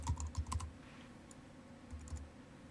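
Quiet bursts of clicking keystrokes on a computer keyboard, a couple of brief flurries separated by a pause.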